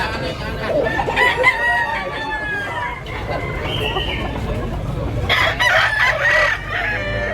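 A gray rooster crows repeatedly at a Tabunok, Cebu gamefowl sale, two loud drawn-out calls with clucking and other fowl nearby, while people talk in the background.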